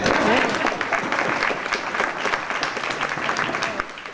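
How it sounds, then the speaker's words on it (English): Applause from a panel discussion audience fills the room, a dense steady clatter of many hands, loud and close from start to finish with no talk over it. "Clap for that."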